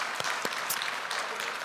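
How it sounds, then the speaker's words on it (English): A church congregation gives a brief round of applause, steady clapping from many hands at moderate distance, with a couple of closer, sharper claps early on. "let's just give a round of applause or a hallelujah and just let her know"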